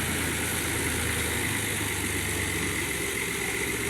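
A tractor engine idles with a steady, continuous mid-pitched drone and low rumble, close and unchanging throughout, with no voices.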